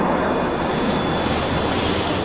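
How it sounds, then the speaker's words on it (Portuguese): A Philippine Airlines Boeing 747 airliner cruising at altitude on a flight toward Tokyo gives a steady, broad engine roar, continuous and unchanging throughout, with no voices. "Um Boeing 747 da Philippines Airlines estava voando a 10 mil metros a caminho de Tóquio"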